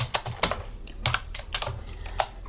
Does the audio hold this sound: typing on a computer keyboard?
yes